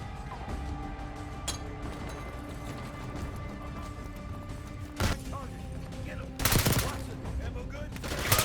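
Gunfire in the Call of Duty Black Ops 6 campaign, with a steady bed of game ambience and combat noise, broken by a sharp burst near five seconds and a louder volley of shots toward the end.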